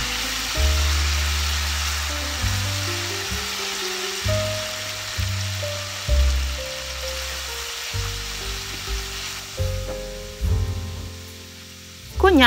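Salt cod frying in a pan with chili, cloves, Maggi seasoning and butter gives off a steady sizzle and hiss, with a tonal melody playing over it and no talking.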